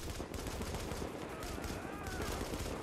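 Rapid automatic gunfire in The Division, a shooter set in a freezing city, rattles in dense continuous bursts at a fairly low level, with a voice talking faintly underneath.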